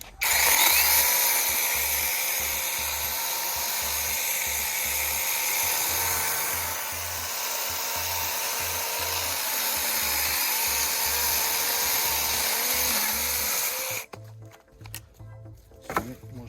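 Procraft brushless cordless pruning chainsaw, used almost daily for five months, cutting through a raw green branch with a loud, steady high-pitched whine that stops abruptly, followed by quieter handling noises.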